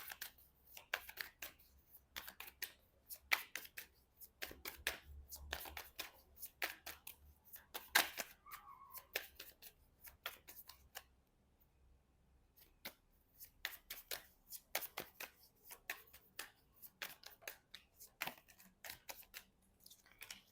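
Tarot cards are shuffled close by, with rapid riffling bursts and soft slaps that come in irregular clusters. A brief quiet gap falls near the middle, then the shuffling picks up again.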